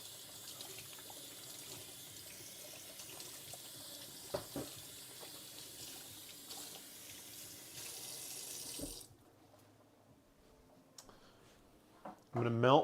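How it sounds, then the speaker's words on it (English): Hands being washed under a running kitchen tap while making stromboli: a steady broadband hiss of flowing water and splashing continues for about nine seconds, then stops, followed by quiet clicks and a voice near the end. "I'll give my hands a little bit of a wash."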